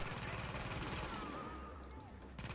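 Sustained automatic gunfire from a mounted turret in The Division, a dense rapid rattle of shots that runs steadily and loudly through the scene before fading, then resuming.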